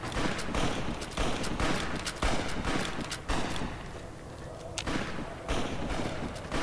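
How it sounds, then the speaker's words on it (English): NCR troopers fire on the player in Fallout: New Vegas, producing loud, dense volleys of gunshots that come in repeated bursts with short gaps between them. "Stop firing."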